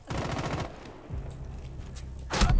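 Automatic gunfire from Rainbow Six Siege, a rapid burst of shots up front, then a quieter stretch and a sharp final loud blast at the end; no talking.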